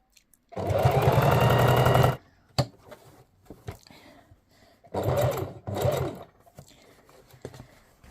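A Singer Heavy Duty 4432 sewing machine stitches during free motion quilting: one loud, steady whirring run of about a second and a half, then a pause and two shorter bursts close together.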